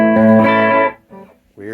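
An electric guitar run through an Immerse reverb pedal in sustain mode rings out as a bright held chord that suddenly cuts off, followed by two short, quieter swelling tones.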